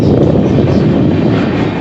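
A loud, continuous low rumble of a moving train passing Dakshineswar railway station, steady and close, with wind buffeting the microphone throughout.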